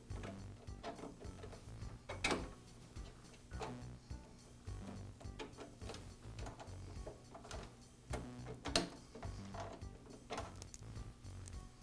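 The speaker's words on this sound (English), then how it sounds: "Now I can pull the sprockets and chain that attach the two rollers together." Metal sprockets and chain pulled from the rollers of a DeWALT planer during repair, a faint stream of clinking, ratcheting and rattling metal parts with scattered sharper clicks throughout.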